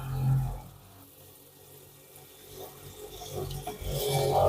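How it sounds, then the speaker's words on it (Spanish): Boat watermaker desalinator starting up and drawing water from a bucket: a faint watery rushing and gurgling that dips, then swells louder toward the end, with light knocks. "Ahora vamos a prender el watermaker. El watermaker va a empezar a tomar agua del balde."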